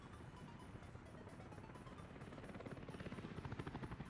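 A firefighting helicopter in the Workers & Resources: Soviet Republic game, its rotor thumping in a fast, steady pulse that grows more pronounced toward the end, quiet and alone.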